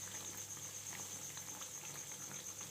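Balushahi fry in oil over a raised flame with a faint, even fizzing and bubbling that holds steady without pauses.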